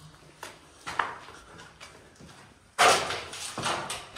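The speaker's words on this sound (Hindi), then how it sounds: "यहाँ खुद के पैरों की आवाज ऐसी लग रही है" Footsteps echo inside an abandoned building, with scattered soft steps at first and then a louder scuffing burst of steps and reverberant knocks, moderately close with no talking.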